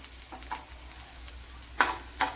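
Sliced bitter gourd fries with salt in a pan for pickle, a soft continuous sizzle broken by a few sharp scraping stirs, close and fairly quiet.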